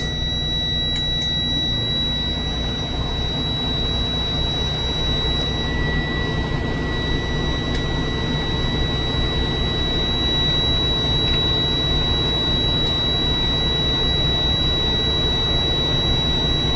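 School bus engine runs steadily while the air brake system builds pressure, a constant loud drone with a high steady whine throughout, no talk heard.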